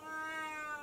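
A cat lets out a single drawn-out meow, close and clear, with no other sounds around it.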